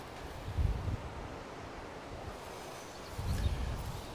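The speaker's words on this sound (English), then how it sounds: "it decided for the wind to blow, and it's blowing pretty good" Strong wind gusts across an open outdoor site in Wyoming where a pipe fence is being built, with broadband rushing noise and low-end microphone buffeting swelling in two heavier gusts, no talking.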